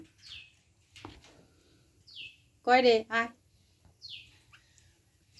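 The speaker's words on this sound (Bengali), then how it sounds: "এটা বড় বুলবুলি, ওই যে মাথার ঝুঁটনটা একবার করে ফুলাচ্ছে" A large bulbul calls in a few short, bright chirps spaced a couple of seconds apart, fairly close, with a brief burst of human talk in the middle.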